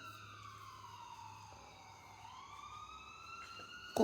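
An ambulance siren wails faintly from a distance at an abandoned hospital, its tone sliding slowly down and back up, with a sudden bump of nearby noise at the very end.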